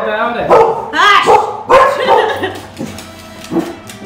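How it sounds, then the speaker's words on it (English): Several dogs bark, yip and whine excitedly, loud and near, in bursts over people talking in a home during a cooking get-together. "Oh, we set the dogs off. They got excited too."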